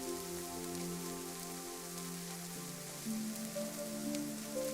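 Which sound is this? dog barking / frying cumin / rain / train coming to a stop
rain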